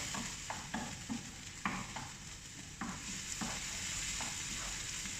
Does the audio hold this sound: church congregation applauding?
no